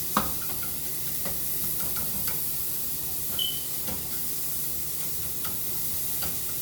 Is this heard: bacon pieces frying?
yes